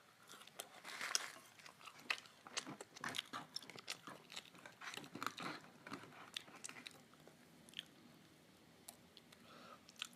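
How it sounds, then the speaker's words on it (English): Biting and chewing on a McDonald's Big Mac, a series of close, soft crunches and wet mouth sounds in an irregular rhythm, heard alone without talk. "Last bite of my Big Mac."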